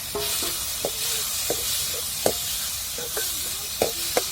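Finely chopped tomatoes sautéing in a pan for a village-style puri bhaji, with a steady broadband sizzle throughout and repeated sharp spoon-stirring scrapes and clinks at a near, moderate level, without speech.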